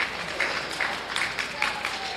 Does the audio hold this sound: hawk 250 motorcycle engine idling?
no